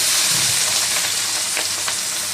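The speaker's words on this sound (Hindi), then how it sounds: "तेल गरम हो चुका है, अब हम इसमें प्याज डालेंगे" Onions frying in hot oil in a pan, a dense, bright, steady hiss and crackle, close and fairly loud, with faint tapping from stirring.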